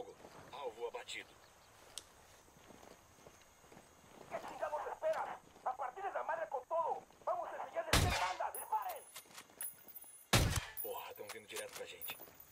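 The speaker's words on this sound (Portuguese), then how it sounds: "Alvo localizado. Abrindo fogo." Gunfire in the video game Ghost Recon Wildlands: two loud, sharp shots several seconds apart cut through stretches of in-game talk and radio chatter, with faint background game noise between them.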